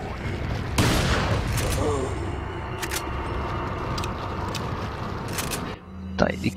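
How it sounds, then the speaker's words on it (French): Rifle fire in the Resident Evil 4 video game on GameCube: a series of sharp, loud gunshot bursts with long ringing tails, ending in a final quieter crack. "Putain, il est cool ce nouveau fusil."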